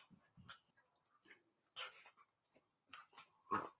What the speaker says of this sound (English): I gotta sit here and argue with my boy dog.